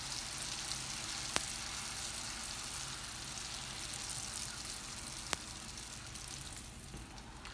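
Buñuelos sizzle steadily in oil over medium heat, a constant bright frying hiss with a couple of sharp ticks, close and even, no talking.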